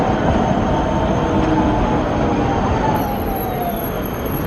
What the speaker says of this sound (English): We're going to get the tram over.